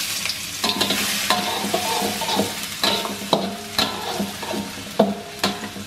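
Garlic sautéing in a pan, a constant close sizzle broken by repeated scraping and stirring strokes every half second or so, fairly loud with no speech.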